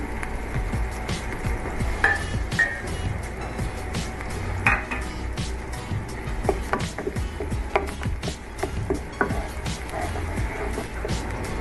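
Garlic dropping into hot oil in a pan and sizzling steadily, with stirring scrapes and a few clinks of utensil against cookware throughout, fairly close with no talk.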